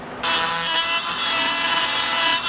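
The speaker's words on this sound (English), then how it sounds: "We're going to use our die grinder and round it off." A die grinder rounding off the foot of a motorcycle audio tray, a sudden high-pitched whine starting almost at once and holding steady and loud, with a close grinding rasp against the workpiece.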